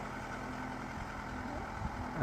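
A high-speed tractor engine idles steadily nearby while hitched to a five-tine cultivator, a low continuous rumble with a faint knock near the end.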